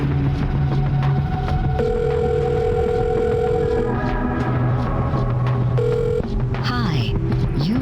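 A phone rings with a steady electronic tone in the Silent Hill: Shattered Memories video game, the ring sounding in bursts over a dense, busy game soundscape with low hum and warbling sweeps near the end.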